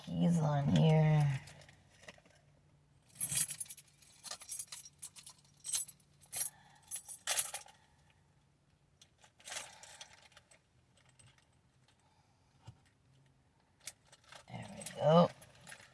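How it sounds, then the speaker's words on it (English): Keys jangling as they are clipped onto a holder, several short bright metallic rattles in bursts, with a person speaking briefly at the start and at the end. "Okay, I clip my keys on here."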